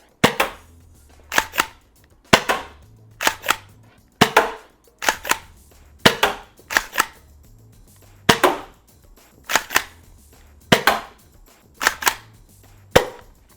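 Lightweight Worker Gen 3 foam darts fired from a blaster: sharp, snappy pops arriving in quick pairs and triples with short gaps between bursts, close and loud, with a faint mechanical clack from the blaster after some shots.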